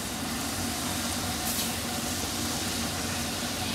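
Hilsa fish sizzle and fry in a pan of spiced masala, a dense, loud, continuous crackle and hiss that holds steady throughout with no voices.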